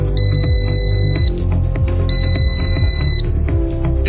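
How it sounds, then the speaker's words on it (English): A loud high electronic tone from a remote-control quadcopter drone's locator buzzer beeps in two long pulses over a low rumbling background, steady and piercing, with no voices. "press the left stick on the remote control to start the buzzer of the aircraft"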